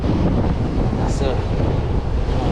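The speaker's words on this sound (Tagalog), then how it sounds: "Lumakas yung alon." Strong sea waves roll onto the shore while wind pounds the microphone, a loud, steady roar of surf and gusts on a fishing and hiking trip by the sea.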